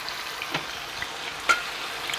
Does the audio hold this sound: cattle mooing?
no